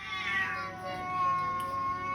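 An indoor house cat gives a drawn-out meow during a flood, the cry rising and falling over steady background hiss, fairly close and moderately loud with no talking.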